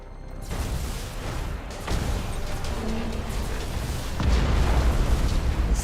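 Plasma bomb blasts in a Warhammer 40,000 space battle game, a continuous heavy roaring rumble with deep booms swelling near the start and again toward the end, loud and dense.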